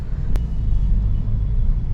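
Road traffic near Electronic City in Bangalore, a continuous low rumble of passing vehicles, steady and moderately loud, with one brief sharp click early on and no talking.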